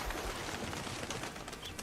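Birds in the cornfields of the video game Red Dead Redemption 2, soft cooing calls like pigeons or doves scattered over a dense rustling outdoor background.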